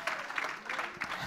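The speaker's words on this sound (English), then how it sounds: "Clap your hands, all you people." A church congregation clapping hands during a Sunday service sermon, a brief patch of crowd clapping with rhythmic bursts under speech.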